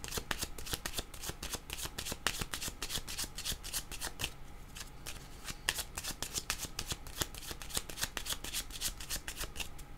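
Tarot cards shuffled by hand in a fast, steady run of crisp riffling flicks, close and continuous for the whole stretch.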